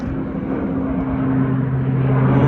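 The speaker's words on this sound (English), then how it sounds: "that's officially the first plane I've just spotted taking off" An airplane taking off near East Midlands Airport, heard as a steady, loud engine roar with a low droning hum that swells gradually over a couple of seconds, with no talking.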